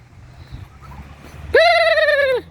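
Domestic turkeys on a rural farm near a garden: after faint background murmur, one loud, clear, drawn-out harmonic turkey call rings out for about a second nearby.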